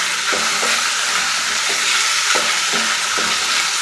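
Capsicum and raw peas fry in a pan with a steady broadband sizzle, and a few soft stirring scrapes recur over it, close and continuous with no voices.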